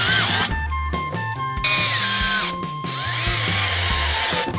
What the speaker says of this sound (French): On visse le contreplaqué.